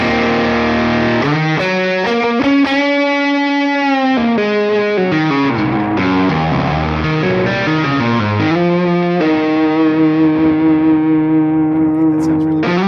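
Electric guitar through a Lovepedal Box of Awesome distortion pedal, heavily distorted, plays a continuous riff with sustained, buzzing chords and shifting notes, loud and without pauses.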